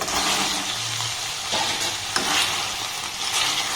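Korean rice balls are stirred in a frying pan, a steady close scraping and stirring over a continuous oily sizzle, with no voices.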